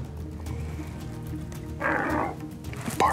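A short, hoarse bark from a red deer hind rings out from a distance amid a quiet outdoor background in New Zealand, followed by a fainter call near the end.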